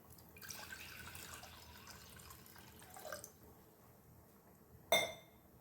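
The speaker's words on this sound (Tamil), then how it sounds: "இப்போ 1/2 டம்ளர் வந்து தண்ணி சேர்த்துக்கோங்க" Half a tumbler of water is poured into a cooking pot for a village-style siru keerai kadaiyal, a faint splashing pour lasting a few seconds, then a sharp metallic clink of the vessel.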